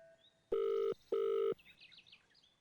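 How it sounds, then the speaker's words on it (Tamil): A telephone sounds two long, even electronic tones of equal length separated by a short gap, loud and close, followed by faint chirping noises. "சரி, நான் ஃபோன் போட்டு தரேன்,"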